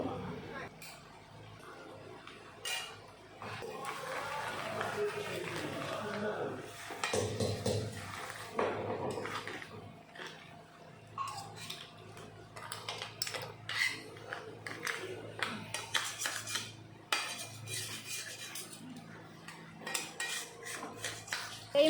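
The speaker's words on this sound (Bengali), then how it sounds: "এখন ভালো করে আস্তে আস্তে মিশিয়ে নেব" A spoon clinks and scrapes in a pan as crab curry is slowly mixed with chopped coriander and ground garam masala, close and intermittent metallic knocks, with a voice talking over parts of it.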